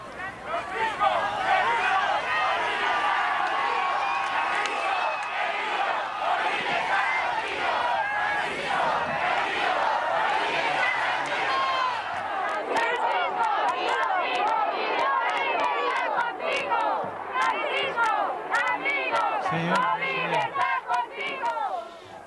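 A huge open-air crowd of about 500,000 people at El Alto airport in La Paz, Bolivia, gathered to welcome Pope Francis, roars and cheers loudly and continuously, with dense overlapping shouting and chanting throughout.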